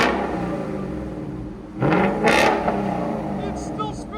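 A 2019 Ford Mustang GT with a 5.0L V8, Corsa Xtreme exhaust and Vibrant resonators, rumbling steadily and then surging in two short revs midway before settling back to a loud idle.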